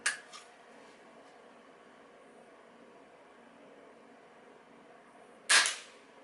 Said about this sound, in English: I'm shooting my backpack gun from inside the basement to outside, just to show how quiet it is